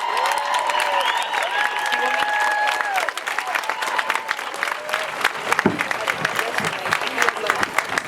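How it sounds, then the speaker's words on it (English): Applause from an audience at a protest against mandatory flu shots in Boston, steady clapping throughout with a few louder claps near the end, while a voice and whistle-like tones sound early on. "Everyone, please give her a huge round of applause"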